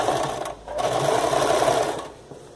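Sewing machine hemming the small ruffles of a skirt made from fabric scraps, already overlocked; a steady close whirring stitch run with a brief pause near the start and a stop just before the end.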